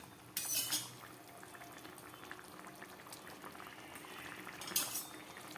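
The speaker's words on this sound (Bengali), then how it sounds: "ঝোলটা এবার ফুটে উঠুক, আবার 2-3 মিনিট মতো রান্না হোক" A thin fish curry broth boils in a pot, a soft, continuous bubbling with two brief louder splashy bursts, heard close and quiet without any talking.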